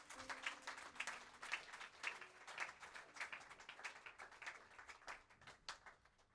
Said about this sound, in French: Est-ce qu'on peut applaudir pour elle comme elle vient devant?